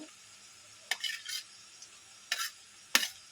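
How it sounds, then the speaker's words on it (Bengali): Onions fry lightly in a pan under a low, quiet sizzle, with three short scraping bursts of a spatula stirring them. "পেঁয়াজটা একটু হালকা করে আমি ভেজে নেব।"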